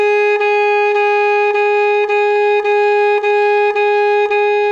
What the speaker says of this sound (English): you can move it to the mouthpiece and neck and keep the air flowing